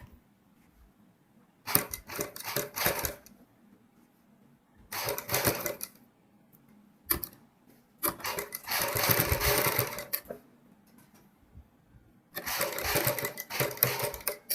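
A sewing machine stitches pearl lace onto a neckline slowly and carefully in short bursts of rattling stitches, each lasting one to three seconds and separated by quiet pauses.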